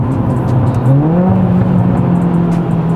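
A turbocharged 1.4 TSI Volkswagen Polo GTI engine revs loudly and steadily close by, with sharp crackling pops from the exhaust scattered over the drone.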